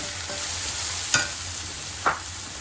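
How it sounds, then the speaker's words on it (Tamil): Amaranth greens (sirukeerai) sizzle softly in a pan while being sautéed, with two sharp spatula scrapes against the metal over a continuous frying hiss. "நல்லா வதக்கிக்கலாம்"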